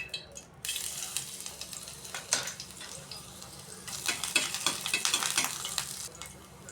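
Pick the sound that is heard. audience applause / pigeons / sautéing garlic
sautéing garlic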